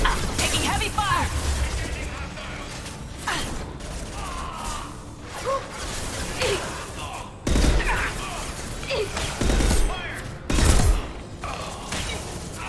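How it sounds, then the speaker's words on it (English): Heavy gunfire in a Mass Effect Legendary Edition combat scene, with bursts of shots, thuds and impacts running throughout at close range, and a few louder blasts standing out, mixed with a player's voice talking over the fighting. "Taking heavy fire!"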